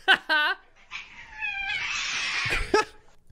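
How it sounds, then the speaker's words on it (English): Cat caterwauling and meowing, a couple of short cries followed by a long, wavering, strained yowl that rises and ends with a sharp squeal, loud and close. "This is why I don't like cats."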